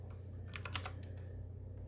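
A short, quick burst of keystrokes on a computer keyboard, typing an IP address while setting up RetroPie on a Raspberry Pi, close and clear against a quiet room.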